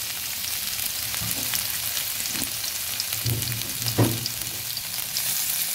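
Drumstick pieces and potato sizzle in hot oil in a pan as spices are added to a cleared spot in the middle. A steady close hiss carries a few soft stirring knocks, with no voices.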